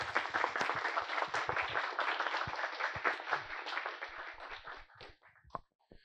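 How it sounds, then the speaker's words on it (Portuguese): An audience at a developer conference panel gives the panelists warm, dense applause that holds steady for several seconds, then thins to a few scattered claps and fades out. "eu queria pedir uma salva de palmas para os nossos queridos Rinhas"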